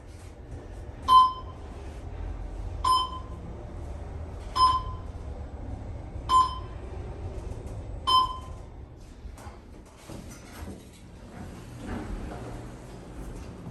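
A stuck-on chime from a Schindler 500A traction elevator in the Moody Gardens parking garage sounds five clear, evenly spaced single tones, then fades into a low mechanical hum with faint clunks.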